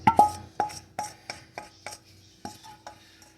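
A spoon scrapes onions, garlic and spices out of a bowl in a quick series of about eight dry, clattering strokes, close and fairly loud, with no talking.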